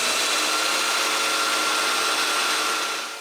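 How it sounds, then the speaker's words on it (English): A domino joiner cuts mortises into workbench rails, a loud, steady high-pitched motor whine with broad hissing noise that holds for several seconds and eases slightly at the end, with no talking. "Using this mark, I can drill 2 mortises."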